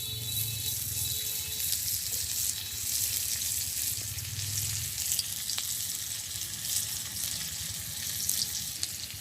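Onions fry in oil in a pan in a village kitchen, giving a continuous airy sizzle at moderate level with a few faint clicks and no talking.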